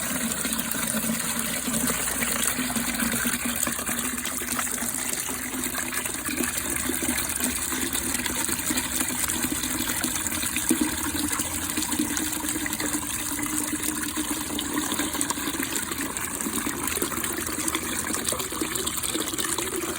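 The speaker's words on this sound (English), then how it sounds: "We're gonna dump this in the mop sink. And the water is going to be coming out." Steady rushing and splashing of dirty floor-cleaning water pouring continuously into a mop sink, a dense broadband gush that holds for the whole stretch without pause.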